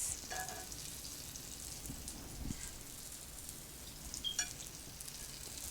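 A grilled cheese sandwich sizzles in a hot pan with a steady crackling hiss, broken by a few louder pops and light scraping, close and unaccompanied by speech.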